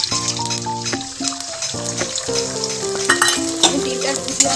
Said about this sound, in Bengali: হয়ে গেছে, এবার ডিমটা দিয়ে দেবো।